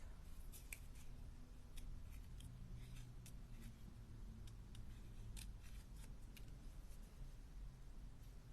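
Scissors snipping card during card making, a run of small crisp clicks and cuts scattered over a steady low background hum.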